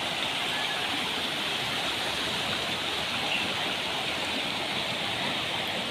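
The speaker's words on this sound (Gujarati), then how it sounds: "વાતાવરણ ખિલખિલાટ ઉઠે એવો સુંદર અવાજ આવી રહ્યો છે, ઝરણાનો અવાજ." A forest stream in Ratanmahal sanctuary in Dahod district, near the Narmada camp, rushes in a steady, dense wash of water noise that holds evenly throughout with no voices.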